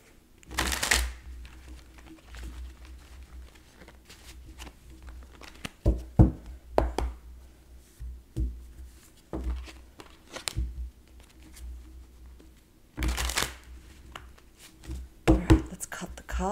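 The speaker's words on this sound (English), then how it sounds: "Give these a good shuffle." Tarot cards are shuffled in short bursts, crisp riffling and tapping separated by quiet pauses, with soft background noise.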